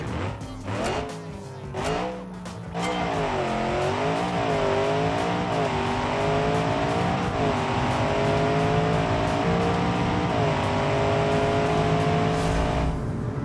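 A twin-turbo V8 van with 1100 horsepower in the BeamNG.Drive driving game revs hard and climbs through gears, engine roar rising and falling with tire squeal, loud and continuous.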